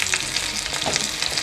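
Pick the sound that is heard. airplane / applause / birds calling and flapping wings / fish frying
fish frying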